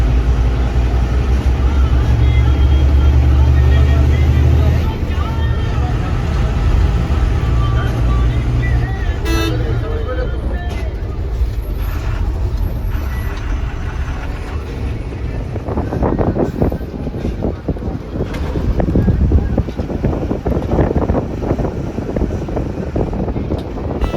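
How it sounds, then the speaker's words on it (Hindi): A bus speeding along a Himalayan mountain road between Yamunotri and Gangotri, a loud, continuous engine and road roar with wind buffeting the microphone, heard from inside the vehicle. "ड्राइवर साहब ने बस को एकदम खींच कर रखा है"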